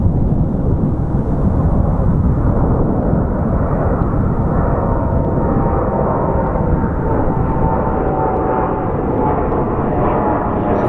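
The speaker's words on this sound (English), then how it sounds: "I believe that is our Delta Connect flight that's headed to Los Angeles" A Delta Connection airliner departs Phoenix Sky Harbor for Los Angeles, its jet roar a steady, loud broadband rumble that holds without a break for the whole stretch.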